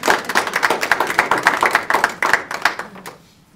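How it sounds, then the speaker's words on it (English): A small audience at a school board of education meeting claps, a sparse patter of distinct hand claps for about three seconds that thins out and stops. "You can clap."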